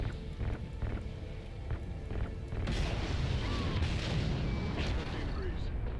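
Rapid gunfire and heavy booming explosions from a shooter scene in the video game Kinki Spiritual Affairs Bureau, light at first and then swelling into a dense, loud, continuous barrage.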